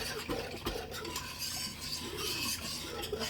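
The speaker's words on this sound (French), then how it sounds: "un petit peu de curcuma pour la couleur. Voilà, on va remélanger." A thickening vegan peach tart filling tinted with turmeric is stirred in a pan, making a continuous soft scraping and swishing sound with faint utensil clinks throughout.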